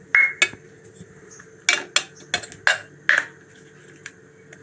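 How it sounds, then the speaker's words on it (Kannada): Cashews, almonds and raisins are dropped into a steel mixer grinder jar in a short run of sharp, close metallic clinks and taps, about six distinct hits with quiet gaps between. "ಇದನ್ನೆಲ್ಲ ಮಿಕ್ಸಿ ಜಾರ್ಗೆ ಹಾಕಿಬಿಟ್ಟು"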